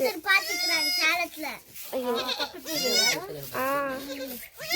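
A mother goat and her newborn kid bleating, repeated wavering cries in quick succession, loud and close, with little pause between calls.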